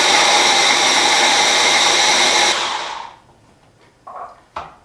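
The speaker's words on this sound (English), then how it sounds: "we have our chopped up rehydrated chilies, our onion and our garlic in here, and we just need to give it a really good blitz" A blender blitzes rehydrated chilies, onion and garlic into a paste for sambal goreng, whirring loud and steady for about two and a half seconds before spinning down, followed by a couple of short clunks.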